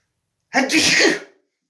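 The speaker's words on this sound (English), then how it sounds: "I'm going to sneeze." A single loud sneeze, close by, bursting out sharply and trailing off within about a second, with silence around it.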